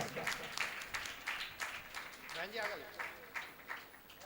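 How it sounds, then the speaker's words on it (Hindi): Fairly faint, uneven clapping from an audience at an evening aarti and cultural program, with distinct claps pulsing through and talk mixed underneath. "इन दोनों के लिए जोरदार तालियों के साथ स्वागत"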